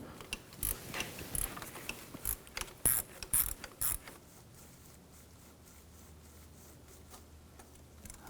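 A ratchet fitted with a 5mm hex socket loosens turbocharger bolts on a 2004-2009 Audi A4 Quattro 2.0L, giving several short bursts of fast clicking before quieter handling noises.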